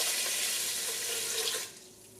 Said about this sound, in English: Now I'm going to add 3 cups of water.